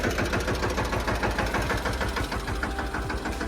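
A mini tractor engine idles in a cotton field with a steady, rapid knocking chug that runs close and continuous throughout.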